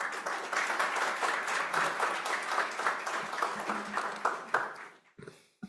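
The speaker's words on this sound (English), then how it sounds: "He gets that applause every time he gives a lecture to his students." A board of trustees meeting audience gives sustained applause after a lecture, with dense, steady clapping for about five seconds before it cuts off sharply into brief quiet.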